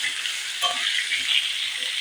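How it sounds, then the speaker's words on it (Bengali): Cut potatoes sizzle steadily in a hot pan as a utensil stirs them, scraping and clinking a few times over the continuous frying hiss, with no one talking. "দিয়ে দেবো কেটে রাখা আলু, আলুগুলোকে দিয়ে একটু নেড়ে চেড়ে নেব।"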